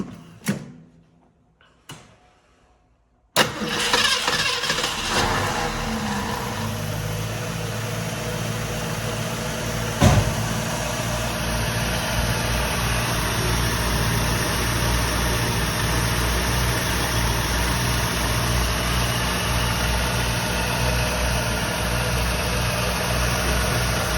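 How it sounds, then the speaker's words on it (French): A 1967 Mustang V8 settles into a steady, loud idle at 800 rpm after startup, its low rumble constant and close, preceded by a few knocks and a brief clunk. "on est déjà à 800 tours minutes"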